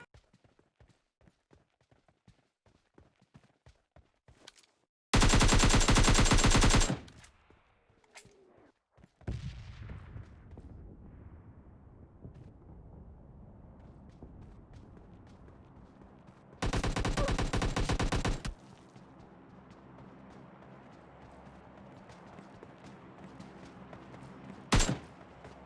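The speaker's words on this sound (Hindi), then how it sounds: "वो मुझे पे शॉट लेना शुरू करता है, लेकिन मैं थोड़ा सा राइट फ्लैंक करके जाता हूँ" Automatic rifle fire in the mobile battle royale game PUBG Mobile Lite: two loud sustained bursts and a final short shot stand out over quieter in-game ambience and footsteps.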